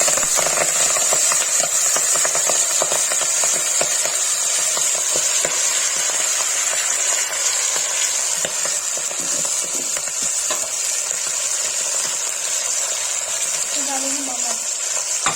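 Saag greens drop into hot oil with cumin and asafoetida, giving a loud, steady sizzle with scraping stir strokes throughout, close by, with a brief voice near the end.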